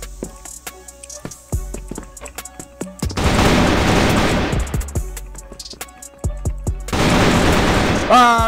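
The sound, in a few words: gunshots in a video game shooter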